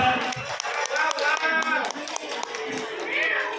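Applause from an audience at a Thai school retirement ceremony honouring two retiring teachers, dense clapping with scattered sharp claps and some voices mixed in, steady and fairly close.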